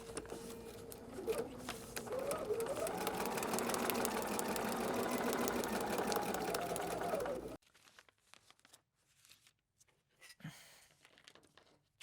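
A sewing machine runs a continuous stitching burst for several seconds while piecing fabric onto foundation paper, then stops abruptly, leaving faint handling rustles and small clicks.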